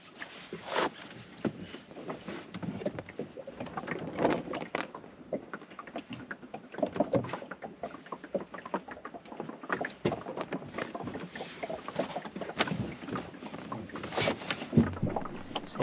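Small sailboat pushing against an oncoming tide in a channel between oyster beds, with steady water wash and slapping against the hull, creaks and wind buffeting the microphone throughout, fairly close.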